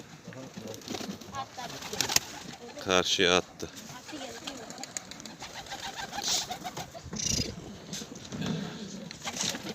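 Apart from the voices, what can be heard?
pigeons cooing and flying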